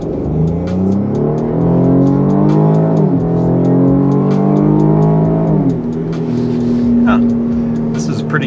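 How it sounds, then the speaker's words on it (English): A 2023 Cadillac XT5 luxury SUV, all-wheel drive in sport mode with traction control off, launches hard, the engine note climbing through two gear changes before settling into a steady higher drone, loud and close. "it's time for the launch test here. I got sport mode on, so it's all-wheel drive, traction control off,"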